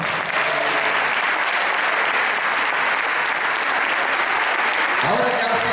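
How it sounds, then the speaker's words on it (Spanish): A church congregation at a Spanish-language service bursts into loud, sustained applause, dense clapping filling the whole stretch before tapering slightly at the end. "¿Cuántos le pueden dar un aplauso al Señor?"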